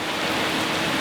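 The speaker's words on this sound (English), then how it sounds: "It's not raining too hard," Light rain falls in a steady, even hiss over an outdoor work area, heard alone for a brief moment.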